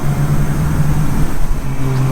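A supercharged Honda Civic Type R engine: a loud, steady close-up drone with a low idling hum, no clear rev change and no talking.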